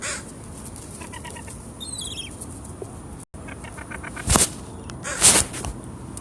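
Birds, crows among them, flock around bread being handed out outdoors, with scattered chirps and calls and two loud, close bursts of squawking or flapping over a steady background.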